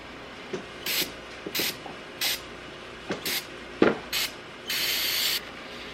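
Brake cleaner sprays in short hissing bursts around a Ski-Doo crank bearing, with rubbing and wiping sounds between them and a longer sustained spray at the end.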